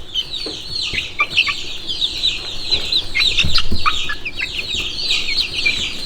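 Wyandotte bantam chicks cluck and peep continuously as they peck at snacks, a busy chorus of high chirps that stays close and moderately loud throughout.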